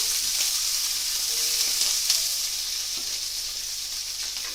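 Steak ingredients are stirred in a hot pan, giving a steady, loud, close sizzle with faint scraping from the stirring underneath.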